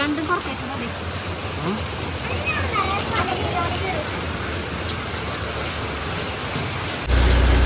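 Steady rain pours down outdoors at a house in Kerala, a dense continuous hiss filling the whole stretch, with a few faint background voices and a brief low thump near the end.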